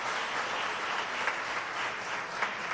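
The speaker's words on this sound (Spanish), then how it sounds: "Eso merece un aplauso" Church congregation applause during a Spanish-language service, a steady, moderately loud wash of many hands clapping with no talk over it.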